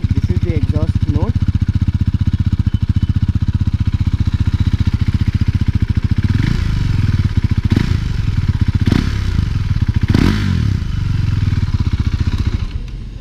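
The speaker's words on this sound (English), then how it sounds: "This is the exhaust note." A 2017 KTM Duke 390 single-cylinder motorcycle rumbles loudly up close with a steady throbbing exhaust note, blipped into several sharp revs that rise and fall before settling back to idle.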